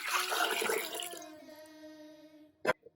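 Water poured into an Instant Pot for ikokore, a steady liquid stream with rising gurgle that tapers off, ending in a sharp knock.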